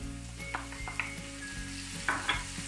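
Tomato added to onions and Charleston and red peppers frying in a pan gives a steady sizzle, with a few sharp stirring clinks and scrapes against the pan and no talking.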